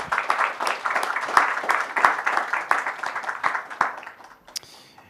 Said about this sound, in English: please help me give a round of applause to Shingo Kitayama-san from Red Hat.